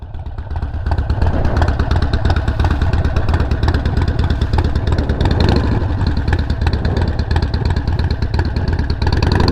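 A motorcycle engine runs loud and close from a stop, steady and unbroken throughout, with no talking.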